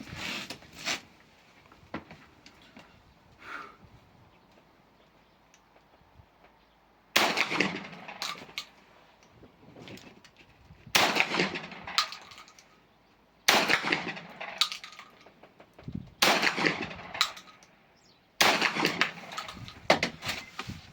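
A 12-gauge firing Polieva-6U expansive slugs over Maxam powder through a half-choke muzzle attachment at a 50-metre range. Five sharp, loud outdoor blasts come after a quiet start, each with a short ringing decay, spaced a few seconds apart.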